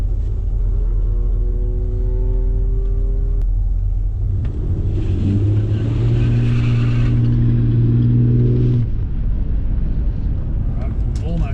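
A VL Commodore with a turbocharged RB30 engine rumbles and revs as it accelerates, its engine note climbing and dropping through gear changes, heard from close by with people talking over it.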